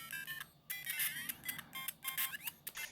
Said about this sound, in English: Ah, Tetris. Let us take in that audio.